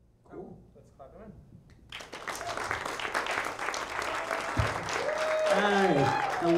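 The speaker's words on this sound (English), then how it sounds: "Let's clap them in." A comedy show crowd at a Pride event bursts into loud, sustained applause after brief talk, clapping swelling and continuing while a voice speaks over it toward the end.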